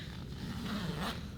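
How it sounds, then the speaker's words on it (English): The zipper on the front pocket of an Incase ICON backpack is pulled open in one smooth, quiet run of about a second, close up with no talking. "Got a nice smooth zipper there."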